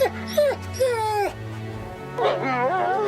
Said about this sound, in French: Il peut japper, hurler, aboyer ou bien encore gémir.